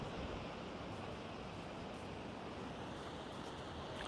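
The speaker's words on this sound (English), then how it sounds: "take in the sound of the ocean. How about that ocean breeze, huh?" Ocean surf and breeze heard during an outdoor yoga session, a steady, soft wash of waves and wind that continues evenly throughout with no voices.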